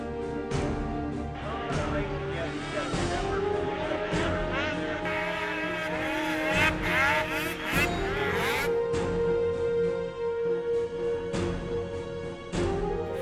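Racing snowmobiles, including an Arcticat and a Ski-Doo, roar past at the Amsoil Duluth National in November 2010, their engines revving loud and continuous with rising and falling whines as riders throttle up, all mixed under music.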